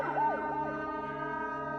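A police car siren wailing with a rising and falling tone over a steady electronic hum, continuous and fairly loud, with no voices.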